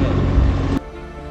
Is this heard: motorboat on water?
yes